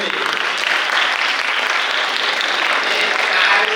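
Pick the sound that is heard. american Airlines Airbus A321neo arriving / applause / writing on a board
applause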